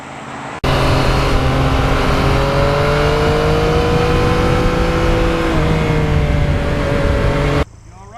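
Yamaha MT-09 2020 motorcycle riding twisty country roads, its engine holding a loud, steady drone with slowly shifting pitch as it accelerates, close and continuous with no talking.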